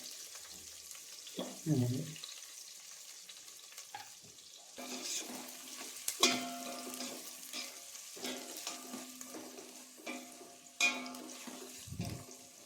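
Chopped ingredients for a country chicken curry sizzle in hot oil and get stirred in a pan, with intermittent louder stirring clatters over a steady low frying hiss.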